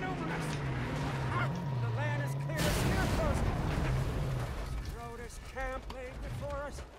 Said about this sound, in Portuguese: Eita, que explosão